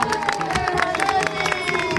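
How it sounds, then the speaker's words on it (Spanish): Crowd on the ground applauding after a tandem skydiving jump, a dense burst of clapping mixed with cheering and babble of voices. "El aplauso para Leticia"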